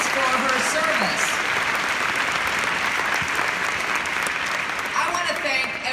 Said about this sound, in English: So let's give Janet Revilla another round of applause for her service.